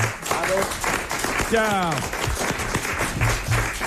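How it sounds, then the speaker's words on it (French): Studio audience on a 1997 French television talk show breaks into applause that runs under overlapping talk and laughter, a dense wash of clapping that stays fairly steady throughout. "les applaudissements vont crépiter"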